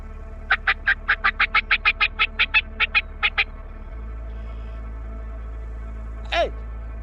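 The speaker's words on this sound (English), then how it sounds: "I thought the one gobbler was going to eat the other gobbler while they was fighting" Wild turkey gobblers fighting let out a rapid run of about sixteen sharp, clipped gobbling pulses over three seconds, near and loud, followed after a pause by a single rising call.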